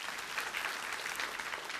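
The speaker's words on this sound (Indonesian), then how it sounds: "Beri tepuk tangan untuk Tuhan." Dense, steady applause from a church congregation during a sermon service, a continuous bright roar of many hands clapping at once with no pauses.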